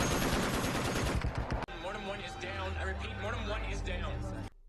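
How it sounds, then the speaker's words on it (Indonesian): Rapid bursts of gunfire in a film scene where a helicopter is hit and crashes crackle loudly, then give way to a dense, rumbling action mix with a low engine-like drone underneath. "helikopter Casey mendapat tembakan beruntun, sehingga heli tersebut pun jatuh"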